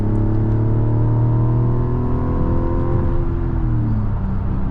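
A 2026 Mazda CX-90 Turbo engine pulls hard under acceleration while passing, a loud steady rumble with rising harmonic tones that sweep and drop near the end, heard from inside the cabin without talk.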